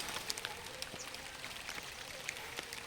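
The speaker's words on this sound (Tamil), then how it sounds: "முதல் தடவை பயிரை உடைக்கும் போதே மழை வர ஆரம்பிச்சிருச்சு." Rain falls on a field of red corn as a soft, constant hiss with scattered faint drips, quiet and without speech.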